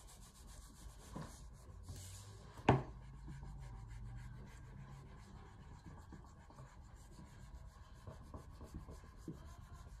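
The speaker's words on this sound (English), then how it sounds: "Just going to burnish it a little bit more here." A drypoint etching plate is burnished with soft, faint, steady rubbing strokes. One sharp click sounds early on, and there is no talking.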